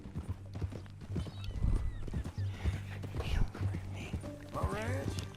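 Horse hooves clip-clop in Red Dead Redemption 2, a steady run of hoofbeats under ongoing male dialogue, with a brief whinny near the end.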